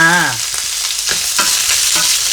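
Bamboo shoots and kaffir lime leaves stir-fried with chicken liver, a loud close sizzle broken by rhythmic spatula scrapes against the pan, after a short tonal sound at the start.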